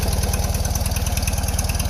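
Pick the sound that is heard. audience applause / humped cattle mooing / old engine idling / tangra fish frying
old engine idling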